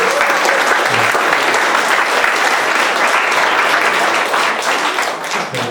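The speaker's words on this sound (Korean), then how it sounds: "네 분 다 잠깐 일어나 주시면 저희 박수로 축하하겠습니다" A church youth-group congregation applauds at a Sunday service, steady loud clapping filling the room for several seconds, with a few scattered voices underneath.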